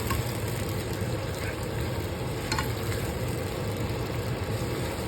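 A tomato sizzles in a frying pan alongside bitter melon, a dense, continuous close-up frying hiss with faint scraping of a stirring utensil.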